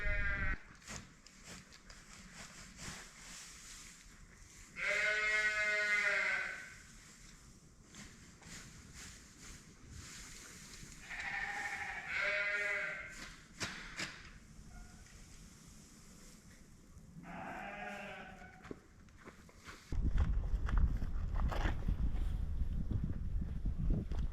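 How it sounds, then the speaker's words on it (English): Hungry sheep bleating loudly for hay in several separate bursts, with quieter stretches between calls and a rough rushing noise toward the end. "we get those sheep fed first. They're yelling for some hay"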